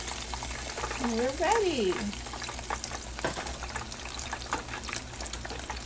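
Catfish pieces fry in hot oil in a pan, giving a steady broadband sizzle that runs the whole time, with a voice speaking briefly over it near the start.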